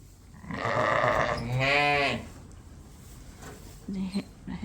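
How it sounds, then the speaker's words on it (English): A ewe giving a loud, quivering baa during lambing, with a second shorter bleat following, then a faint low call near the end; close and clear with no talk over it. "Hear that other ewe that's bowing back to her?"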